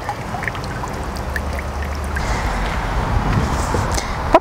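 Water drains and trickles steadily from wet hemp paper pulp through a sieve, a soft continuous pouring patter with a low rumble beneath and a small knock at the end.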